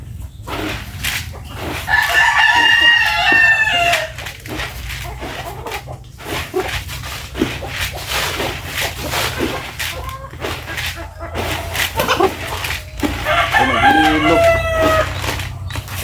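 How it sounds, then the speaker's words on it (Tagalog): Rooster crowing with chickens clucking at feeding time on a farm, two long crows near the start and end over steady background clucking and a dog barking, with a person talking. "pagpakaon natin itong mga manok"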